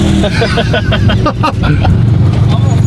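An Apollo IE hypercar spins through donuts, its engine roaring loud and steady at close range while excited voices shout over it.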